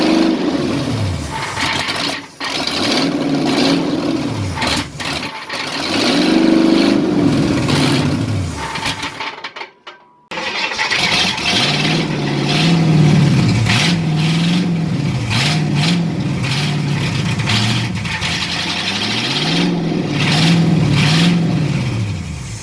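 A 1953 Ford F100 truck with a 302 engine cranks and starts, then runs rough and rises and falls through repeated revs over about twenty seconds, close and loud, with a brief dropout midway.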